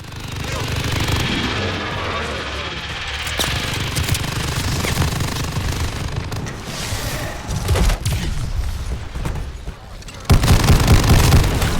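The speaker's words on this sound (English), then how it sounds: "guess how many Sturmkriegers were shooting at me in this clip" Loud, close video game gunfire from several Sturmkrieger enemies sounds as rapid bursts and heavy booms in a dense, continuous barrage, ending in a sharp louder blast.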